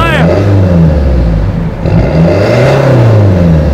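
A Peugeot 207 1.6 HDi 90 hp diesel engine revs up and down in strong bursts, close and loud, with a voice briefly audible over it.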